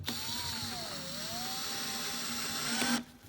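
A power drill drives a screw into a skate ramp ledge of a slappy pad kit, a close whirring motor whose pitch dips and rises under load for about three seconds before stopping abruptly.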